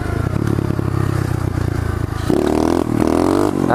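A pit bike engine revs hard during a wheelie, a loud, continuous buzzing drone that steps up in pitch and intensity partway through, heard close with no talking.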